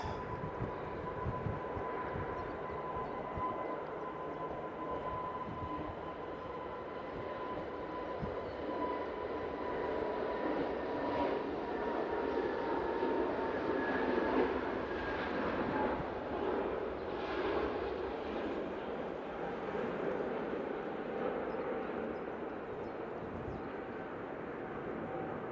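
An EasyJet airliner rolls for takeoff at Manchester Airport, bound for Alicante, its engine noise a faint, distant rumble that swells gradually toward the middle and then eases, with no talk over it.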